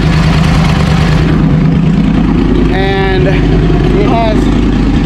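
A 2014 Yamaha R1 motorcycle engine runs loud and close in a steady, low, throbbing idle, with a person speaking briefly over it.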